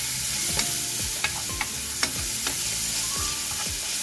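Garlic sizzles steadily in a hot pan, with repeated scraping strokes of a spatula stirring it at an irregular rhythm, close and moderately loud, no voices.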